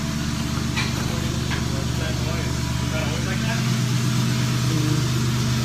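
A Nissan S13 with a 1JZ engine idles inside a garage, giving a steady low mechanical hum with a rhythmic pulse that deepens slightly partway through, while people talk nearby.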